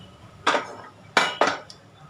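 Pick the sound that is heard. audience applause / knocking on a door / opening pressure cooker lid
opening pressure cooker lid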